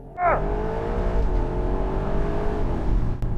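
A Porsche 911 GTS Cabriolet engine in Sport Plus mode revs hard and climbs steadily in pitch as it accelerates, loud and close, with a brief voice near the start.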